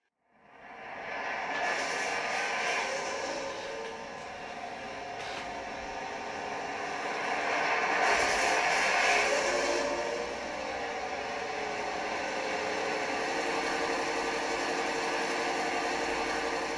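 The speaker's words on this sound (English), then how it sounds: "I can now switch platform 6 back to main line and start up the locomotive again by pressing function 1." An Accurascale Deltic model locomotive's sound decoder starts up, a steady engine drone that builds after a second and holds loud and constant, swelling briefly midway before settling into an even idle.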